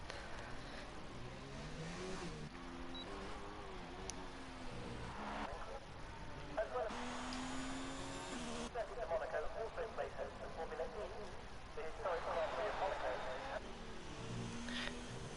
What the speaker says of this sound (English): Ponystown is coming around the last corner to complete his lap in the Ferrari